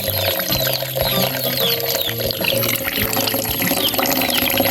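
A weak but continuous stream of water runs at a house, a steady trickling splash close by with no talking.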